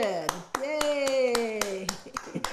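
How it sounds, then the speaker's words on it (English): Steady hand claps, roughly eight evenly spaced, ring out under a sustained singing voice in a music circle, loud and close. "Everybody applauded."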